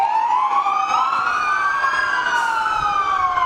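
A fire truck siren wails loudly and continuously at a Fourth of July parade, its rising and falling tones sweeping nearby with steady volume and no voices over it.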